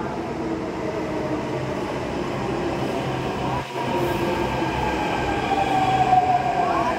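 A metro train pulls into Noida Sector 62 station with a steady rumbling roar and a faint wheel squeal, loud and close, with no talking.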